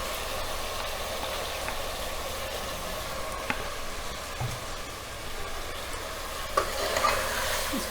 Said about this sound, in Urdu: اب ہم چکن ایڈ کر کے اس کو اچھے سے بھون لیں گے